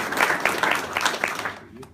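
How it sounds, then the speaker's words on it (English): A crowd at a governor's economic announcement claps for local officials in a short burst of applause that cuts off abruptly near the end. "Let's give all these local officials a great round of applause for the great job they do"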